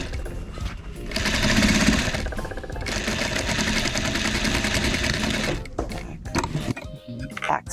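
A sewing machine top stitching a small caddy sewn from a damaged vintage quilt, running close in a steady buzzing rattle for several seconds with short pauses, then stopping near the end.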